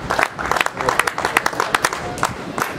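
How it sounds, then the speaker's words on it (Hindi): A crowd claps steadily in a scattered patter of many hands at an opening ceremony, with voices talking underneath the applause. "आपकी भरपूर तारीफ तालियों में इस्तकबाल करेंगे।"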